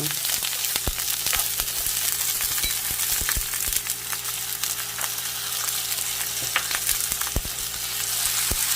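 Vegetables stir-fry in oil with a spoonful of minced garlic for soy sauce tteokbokki, a steady close sizzle punctuated by frequent spatula taps and scrapes against the pan.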